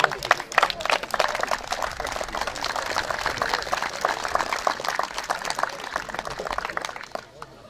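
Sustained, dense clapping from a crowd at a firefighter sports competition award ceremony, steady and lively for the whole stretch.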